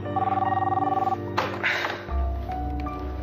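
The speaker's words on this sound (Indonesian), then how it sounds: "Siapa sih telepon?" A telephone bell rings in a steady train of rapid pulses for about a second, then stops, followed by a brief handling clatter and a low background hum, with no talk over the ringing.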